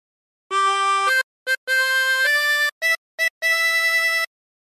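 A harmonica plays the opening phrase of O Christmas Tree, a series of clear sustained and short repeated notes with brief gaps between them, played solo and close up.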